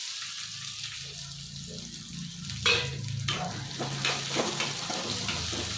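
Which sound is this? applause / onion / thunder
onion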